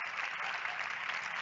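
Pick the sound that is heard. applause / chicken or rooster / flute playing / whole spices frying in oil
applause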